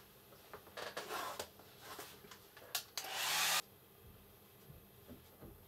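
A hair dryer blasts for a short burst, about half a second, to dry a decorative painting float. It comes after some light handling clicks and taps, close up and fairly quiet overall.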